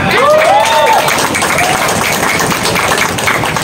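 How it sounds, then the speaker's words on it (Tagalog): Loud crowd applause at a Filipino political gathering, with close, dense clapping and a few shouted cheers near the start, continuing strongly to the end. "Palakpak!"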